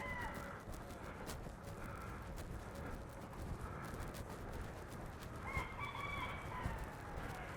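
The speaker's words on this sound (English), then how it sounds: "More rogue roosters over here in Little Havana." Roosters crow on a street in Little Havana, Miami, several drawn-out calls at moderate distance over steady outdoor background noise, with faint passing sounds around them.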